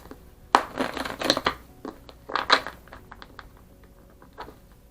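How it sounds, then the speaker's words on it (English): Tarot cards shuffled by hand, giving bursts of crisp riffling and papery flutters in several quick clusters, fairly close and moderately quiet with no talking. "I'm going to shuffle on camera for you."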